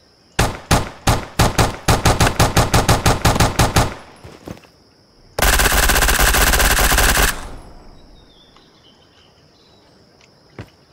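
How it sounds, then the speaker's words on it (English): A Glock 17 pistol fires in the Roblox game Blackhawk Rescue Mission 5. A rapid string of loud, close single shots is followed by a dense sustained burst, then fading echo and quiet. "Now remember these casings as we shoot the Glock."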